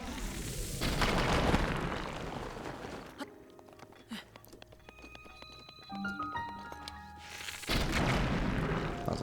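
Bomb blasts in The Legend of Zelda: Breath of the Wild on Eventide Island, loud booming explosions opening and closing the stretch, with quieter game effects and chiming tones in between.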